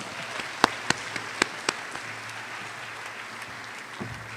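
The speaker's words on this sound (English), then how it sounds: "Let's give them a round of applause." At an honors recognition ceremony, a few scattered sharp claps ring out from the audience, then the clapping thins and fades away over a low steady hum in a large room.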